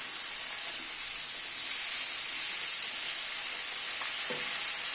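Vegetables with salt and turmeric frying in a pan during winter-vegetable khichdi, a steady bright sizzle throughout with a couple of faint stirring scrapes near the end, no voices.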